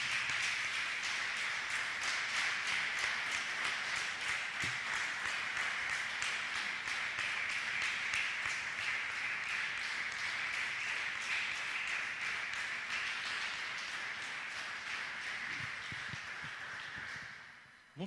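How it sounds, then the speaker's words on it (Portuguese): A church congregation applauding together, a bright, steady wash of many hands clapping in quick rhythm that holds for most of the span and fades out at the close. "Vamos aplaudir Jesus?"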